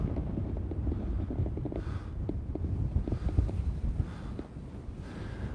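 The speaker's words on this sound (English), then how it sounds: "This is some strong wind." Strong wind buffeting the microphone outdoors, a loud rumbling roar with gusty surges that rise and fall throughout, no talking.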